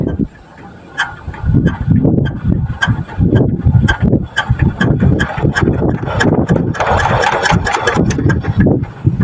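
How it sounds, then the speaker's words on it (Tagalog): A farm irrigation engine is cranked repeatedly without firing, giving loud, close, rhythmic chugging and sputtering bursts with clattering mechanical noise throughout. "Iniisip ko na baka may sumayad lang, kaya tuloy paandarin natin ulit."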